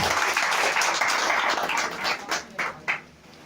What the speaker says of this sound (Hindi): हम चाहेंगे हमारी कंपनी के रिपर्चेज के लिए एक बार जोरदार ताली मारिए